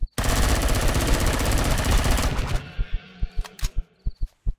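Rapid automatic gunfire from the space survival game Empyrion Galactic Survival rattles loud and continuous for about two seconds, then gives way to a handful of separate, sharp single shots.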